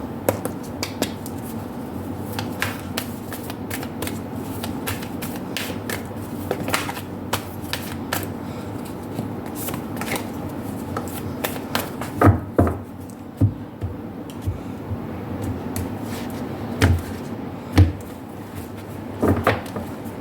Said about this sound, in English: Let me pull out all the cards before we begin your reading.